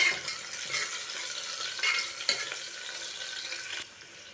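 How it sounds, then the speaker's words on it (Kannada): Onions and chillies frying in a pan, a steady close sizzle with a few spatula scrapes and clinks, moderately quiet and without talk. "ಈರುಳ್ಳಿ ಕಲರ್ ಚೇಂಜ್ ಆಗೋವರೆಗೂ ಸ್ವಲ್ಪ ಫ್ರೈ ಮಾಡ್ಕೋಬೇಕಾಗತ್ತೆ"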